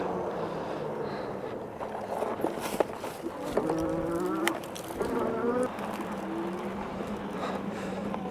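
A Freego F1 Pro full-suspension electric bike motor whirs off-road, a thin buzzing whine that rises and dips over rustling ground noise and wind.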